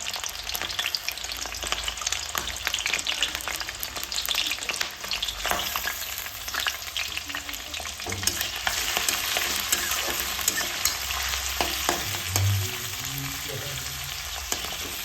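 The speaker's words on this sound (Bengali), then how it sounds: "সামান্য চিংড়ি মাছ আমি ভেজে নেব।" Shrimp fry in a pan for mixed fried rice, giving a loud, dense, continuous sizzle with frequent spatula scrapes and clatters; no voices.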